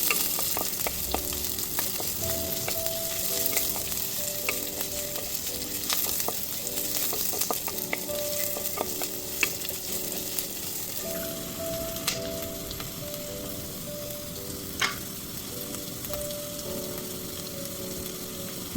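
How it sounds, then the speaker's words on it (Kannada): Onions fry in oil for a Matthi fish curry with a constant soft sizzle and occasional scrapes and taps of a spoon stirring the pan, heard alone. "ಈರುಳ್ಳಿ ಗೋಲ್ಡನ್ ಬ್ರೌನ್ ಆಗುವವರೆಗೂ ಇದನ್ನ ಚೆನ್ನಾಗಿ ಫ್ರೈ ಮಾಡ್ಕೊಳ್ಬೇಕು"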